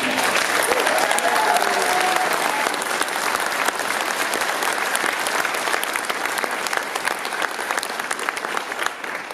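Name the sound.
applause from the audience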